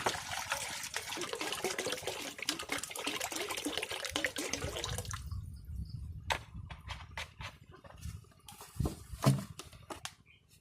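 Two liters of water being poured out at home, a steady loud gushing stream for about five seconds, then scattered splashes and drips with a final heavier slosh, no talk.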